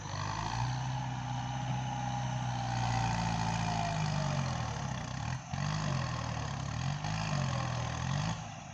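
A steady, rumbling tractor engine drones close by without a break, its pitch rising and falling slightly as it levels ground in an orchard being prepared for durian planting.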